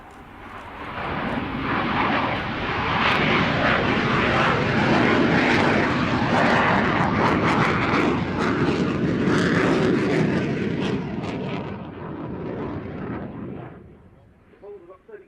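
A Polish Air Force military jet at an air show, a loud broad engine roar that swells in, holds steady for several seconds and then fades away, with some talk faintly underneath.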